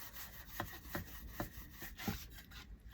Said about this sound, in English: I'm using a chippy brush because it gets down in the cracks of this pretty good.